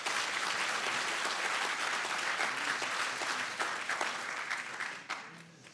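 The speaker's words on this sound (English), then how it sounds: "So let us all applaud their efforts." An audience at an evening event on the Soviet Jewry movement claps, a dense, steady burst of applause that holds strongly, then begins to thin and fade near the end.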